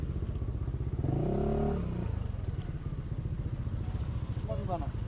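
Many motorcycles gathered at a Sunday morning ride meetup outside a KFC, engines idling and revving in a steady low rumble with clattering, while people talk over the noise.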